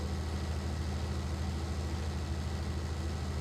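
Tractor engine in Farming Simulator 19 labouring under a load of silage, a steady low, heavy drone that holds at constant loudness throughout, with no talk.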